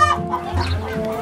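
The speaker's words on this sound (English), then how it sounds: "That's a buff Cochin rooster, directly from China." A buff Cochin rooster clucks close by in a short, continuous burst of low, throaty calls, loud and alone.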